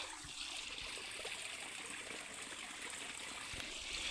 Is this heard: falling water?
yes